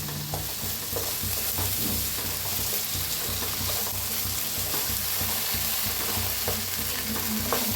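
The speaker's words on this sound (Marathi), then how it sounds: "त्याच्यातच आता हे वाटण जे आपण बनवून घेतले बघा ते सगळं मिक्स करूया. त्याला भाजून घ्यायचं." Green ground masala paste frying in a pan for egg curry, a steady close sizzle broken by repeated scraping stirs of a spatula across the pan.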